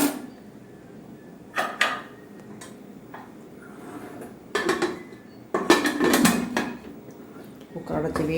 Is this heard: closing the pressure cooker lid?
yes